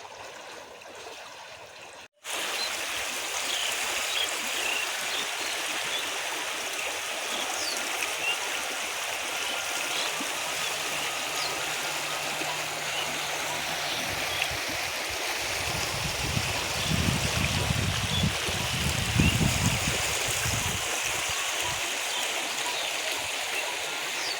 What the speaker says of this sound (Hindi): अब पानी की भी कितनी अच्छी आवाज़ आ रही है